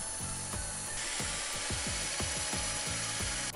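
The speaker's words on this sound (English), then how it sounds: "I'm using multiple bar clamps as well as the clamp on the workbench to hold the pieces of wood together as I screw it in" Pocket screws driven with a drill into clamped wooden boards for a raised garden bed, a steady mechanical whirr with rapid repeated ratcheting clicks running throughout, close and fairly loud, with no talking.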